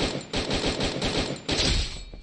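Gunfire in a first-person shooter video game, a rapid run of shots in quick bursts, loud and close, with brief pauses between volleys and no talk over it.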